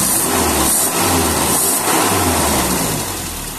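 A Toyota Kijang engine with a faulty coil revs hard at high throttle, a loud, steady, close mechanical roar that holds through the whole stretch and eases slightly toward the end, with no talking.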